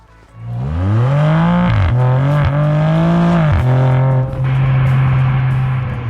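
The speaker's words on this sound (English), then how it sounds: "Immediately, I'm just greeted with the noise of that Remus exhaust, and it is so harmonious." A 2022 BMW M4 Competition with a Remus exhaust fires up and revs loudly and close by, its engine note climbing and dropping through several pulls before settling into a strong, steady drone.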